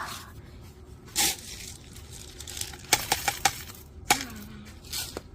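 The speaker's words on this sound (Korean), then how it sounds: "가위질 하고 있어요" Scissors snip while Acura and heart-shaped ball plants are potted, giving a short run of crisp, sharp cuts in quick succession with a few scattered snips around them, close and moderately loud.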